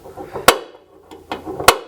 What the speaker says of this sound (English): Punch it down 2 or 3 times.